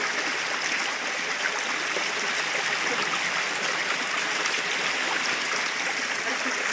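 Water rushes steadily along a Konkan stream past a small dam of piled sand, a loud, unbroken gurgling flow without talk.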